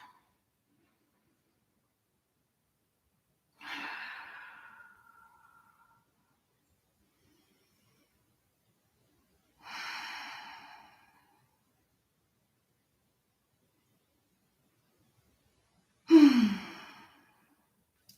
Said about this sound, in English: And we'll continue with deep breaths.